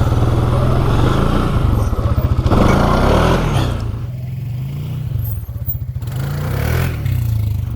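A Can-Am Outlander PRO HD7 ATV engine accelerates up close, a loud throbbing drone rising under throttle with rattling clatter and scraping, easing off partway, then pulling again.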